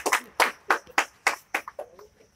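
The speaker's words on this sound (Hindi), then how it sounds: "थोड़ा तालियां गड़गड़ाहट होना चाहिए।" Applause for a test topper in an offline exam class comes as about eight slow, evenly spaced hand claps, loud at first and fading softer and quicker toward the end.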